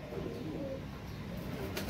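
Heera Laal pigeons from Ustad Dilawar Khan's line coo softly in low, rolling murmurs, a steady close stream of dove-like calls over a dense background.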